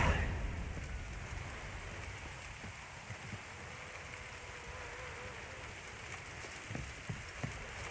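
Rainfall in The Witcher III: Wild Hunt, a steady low hiss of falling rain with scattered soft drops and faint low rumbles, quiet and even throughout.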